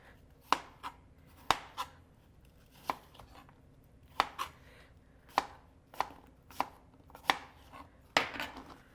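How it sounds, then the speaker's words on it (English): A knife chops apples into half-inch chunks on a cutting board, roughly a dozen crisp, evenly spaced thuds ringing out close and alone across several seconds. "I'm going to work on cutting up all these apples"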